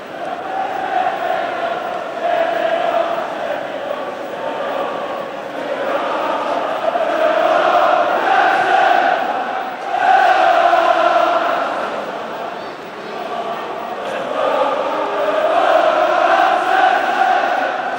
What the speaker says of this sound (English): Manchester United fans singing "You've been outclassed."